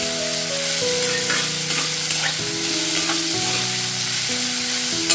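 Chopped onions fry in a pan for veg Manchurian, giving a strong continuous sizzle with scraping stirs, while a steady tonal drone shifts pitch in the background.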